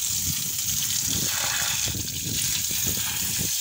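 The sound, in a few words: water pump motor running, water gushing out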